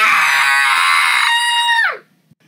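A girl lets out a loud, high, sustained scream lasting about two seconds, its pitch sliding down as it breaks off, with nothing else heard.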